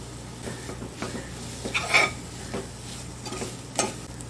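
Onions and spices sizzle gently in a pan while a spoon scrapes and stirs in intermittent strokes, close by and without talking.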